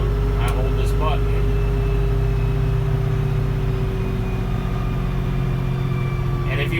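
A New Holland Boomer tractor engine idles steadily with a low, even drone and faint high tonal whine, holding a constant speed throughout under slight background noise.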